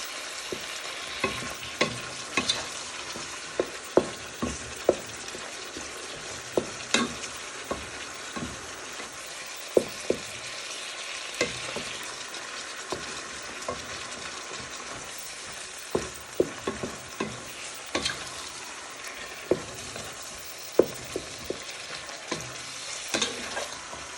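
Mince fries in a dry pan for scouse, a constant sizzle broken by frequent scraping and knocking strokes of a spoon as it is stirred, close and clear with no talking.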